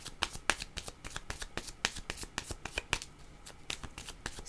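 Tarot cards being shuffled by hand in a steady run of quick, crisp riffling flutters and soft slaps, close and fairly loud with no talking.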